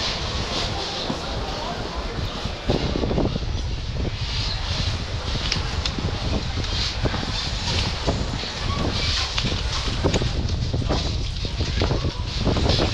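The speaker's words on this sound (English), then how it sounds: "Looks like a windstorm is coming, which will play havoc with my audio." Steady wind from an approaching windstorm in Zagreb, Croatia roars across the microphone with low rumbling gusts, loud and continuous throughout.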